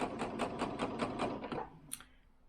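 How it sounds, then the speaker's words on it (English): A domestic sewing machine runs forward along a dress seam in a quick, even stitching rattle for about a second and a half, then stops, followed by a faint click. "I'm just gonna sew forward"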